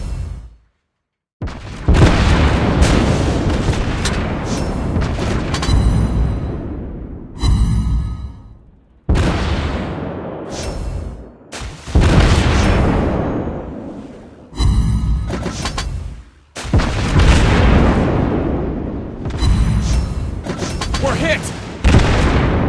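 Heavy naval gunfire from World of Warships Blitz lands in repeated loud booming salvos with rumbling impacts, separated by brief quiet gaps, alongside game voice announcements.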